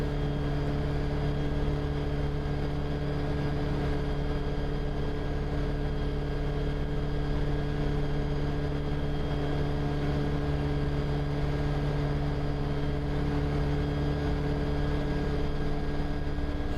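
A Rotorway Talon helicopter drones on after landing as its rotor and systems run down, a constant, close mechanical hum with steady tonal whine that barely changes over the whole stretch.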